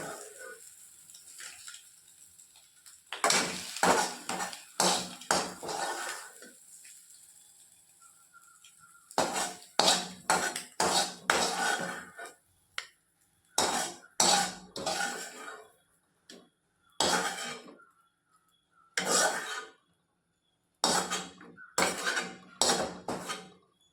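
Egg gravy scraped and poured from a cooking pan into a bowl in a home kitchen, with repeated bursts of metal spoon clatter and scraping against the pan, broken by short pauses, close and fairly loud, no talking.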